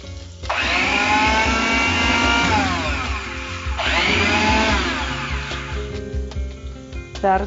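A mixer grinder whirs loudly as it blends tomato and onion for a gravy, running in two long bursts with a brief pause between, motor pitch rising and settling, then tapering off.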